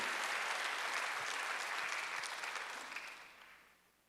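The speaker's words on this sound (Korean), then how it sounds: "박수 한번 하세요." A church congregation at a Sunday service breaks into full applause, a dense wash of clapping that holds steady and then fades away toward the end.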